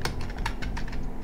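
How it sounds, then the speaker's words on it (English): WASD keys on a computer keyboard tapped in a quick, uneven run of close, crisp clicks during a Roblox car game, with no talk over them. "I'm pressing WASD, nothing happens."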